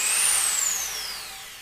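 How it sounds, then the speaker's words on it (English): A handheld power drill fitted with a 19mm bit whines briefly at high pitch and then winds down, recorded close in a home boat-building workshop. "I've got a regular drill here with my 19mm bit."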